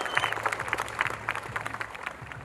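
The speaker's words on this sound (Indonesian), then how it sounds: "tepuk tangan untuk kita semua." Festival crowd in Makassar applauding at an outdoor stage event, a dense wash of clapping running steadily through the whole stretch with a low hum beneath.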